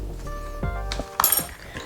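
Two ice cubes clink and rattle into a plastic BlendJet portable blender cup holding water, protein powder and matcha, a couple of bright, hard knocks over a low steady hum.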